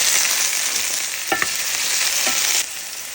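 Bell peppers frying in olive oil in a pan while a home cook prepares a chicken sausage rigatoni meal kit, giving a steady close sizzle with a couple of brief stirring scrapes, then quieting near the end.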